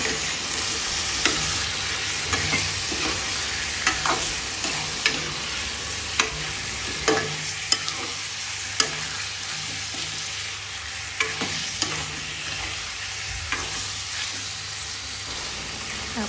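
Chicken browning in oil in a pan for a Nepali chicken gravy gives a steady, close sizzle with occasional clicks and scrapes of stirring, and no voices.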